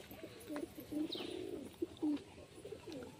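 Pigeons in a cage cooing, several soft low rolling coos in quick succession with a brief higher chirp, close but faint, no talk.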